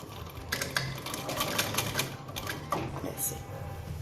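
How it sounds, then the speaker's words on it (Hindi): A sewing machine stitches a fabric strip onto a frock, running in fast rhythmic bursts of mechanical clatter close by, with a brief pause and a short final burst. "इसकी साइड से सिलाई लगाएंगे"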